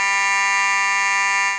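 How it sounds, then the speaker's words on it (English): A fire alarm sounds inside the John Sevier Center building on South Rome Street, with a loud, steady electronic buzzing tone held without a break and no voices over it. "the sound of a fire alarm at the John Sevier Center on South Rome Street"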